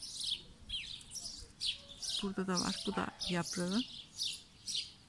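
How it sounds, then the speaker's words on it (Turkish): Birds chirp and tweet outdoors in a garden among potted succulents, bright repeated calls scattered throughout at moderate distance, while someone talks nearby over them. "Kuşların sesinden."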